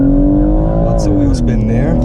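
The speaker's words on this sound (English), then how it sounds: "Lots of wheel spin there." A BMW M140i spins its wheels on a launch-control start, the engine droning loudly and steadily close by with a brief rise and fall in pitch.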